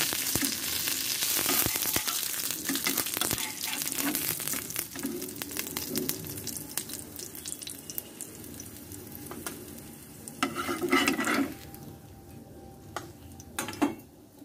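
Bottle gourd leaves frying in oil in a pan, with a loud, continuous close sizzle broken by scraping and clinks of a utensil stirring against the pan.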